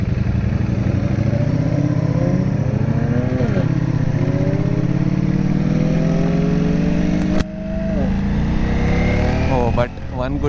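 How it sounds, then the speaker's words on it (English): A Ducati Panigale V4 S engine drones and revs on a ride, rising and falling through gear changes with a brief cut near the end, heard under wind and a rider talking. "I like the way the Ducati sounds."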